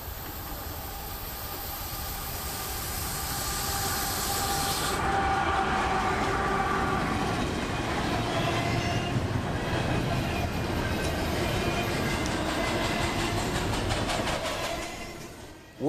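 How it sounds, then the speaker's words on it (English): A southbound priority intermodal freight train loaded with shipping containers rounds a curve in Central Florida, producing a loud, steady rumble and rolling clatter that holds close by for the full stretch before easing at the end, with no talking. "Rounding the curve with priority intermodal for Tampa would be I-045 with a few World Direct containers up front"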